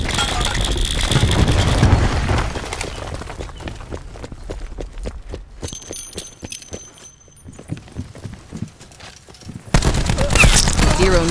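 Cluster grenade blasts in the Call of Duty Black Ops 4 video game: a rapid string of sharp popping detonations, loud and close, framed by heavier booming bursts at the start and end, with a voice briefly heard.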